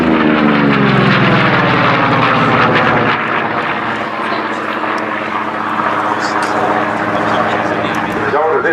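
A Vought Corsair piston-engine propeller fighter flies past at an air day display, a loud, steady drone with a Doppler-like sweep early on, continuing strongly throughout.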